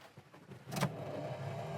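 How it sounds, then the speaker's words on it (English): The heater fan of a 1968 Pontiac GTO whirs on with a brief rising burst, then holds a soft, steady blower hum, close and quiet. "Heater fan works."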